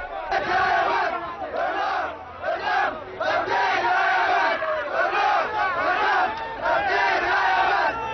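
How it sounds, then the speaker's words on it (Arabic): A large crowd gathers at a political anniversary rally in Sabeen Square, Sanaa, chanting loudly in repeated rhythmic bursts of many voices that swell and pause continuously. "تتوافد الجماهير تلبية لنداء الوطن ودعوة الزعيم علي عبد الله صالح"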